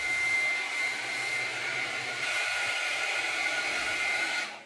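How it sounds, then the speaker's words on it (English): A powerful new hair dryer running on its highest setting, a loud, steady high-pitched whooshing roar held for several seconds before cutting off at the end. "Just playing with my new hair dryer. This thing's powerful."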